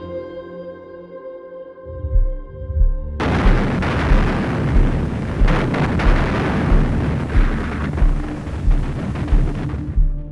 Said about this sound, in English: a real film footage fragment recorded during the battle where the deafening roar of Soviet gunfire can